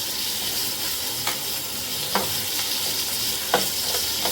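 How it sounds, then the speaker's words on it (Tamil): Big onions sautéing in a pan for a spicy onion-tomato chutney, a constant close sizzle with a few soft scraping stirs of a spatula, no speech. "ஒரு வெங்காயம், பெரிய வெங்காயம், நல்லா வதக்கிக்கோங்க."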